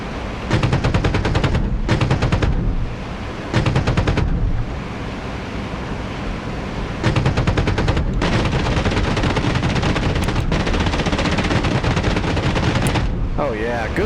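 Long, loud bursts of aircraft machine-gun fire rake the scene during a strafing run in a flight video game, with rapid rattling volleys separated by brief breaks.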